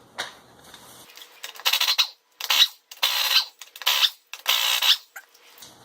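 Lug nuts come off a wheel with a Harbor Freight flip socket, a series of about five close, sharp, scraping metallic bursts separated by short pauses.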